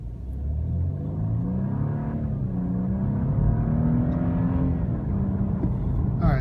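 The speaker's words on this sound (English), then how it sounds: "I'm going to give it, again, a little bit of acceleration from dead stop." A 2015 BMW 528i pulls away from a dead stop, engine note rising steadily in pitch through the gear, heard from inside the cabin as a loud, smooth rumble with no talking.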